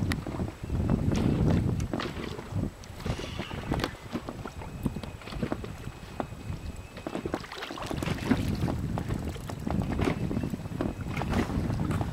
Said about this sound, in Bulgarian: Да загаса мотора?